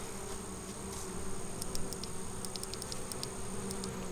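Honeybees hum in a low, continuous buzz around an open beehive, with a few faint clicks and ticks during a beekeeping inspection, no voices heard.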